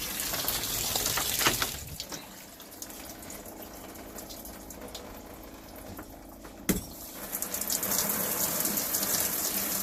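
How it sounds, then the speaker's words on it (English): Water rushes from an RV shower valve during winterization, a steady hiss that swells at the start, eases to a softer flow, then surges again after a sharp knock partway through. "let's pull the valve on our shower"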